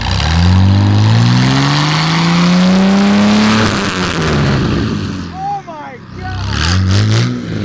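A golf cart engine revs hard through its exhaust, rising in pitch over several seconds with a loud, close rasping drone, then a quieter pause before another burst; people talk and exclaim around it.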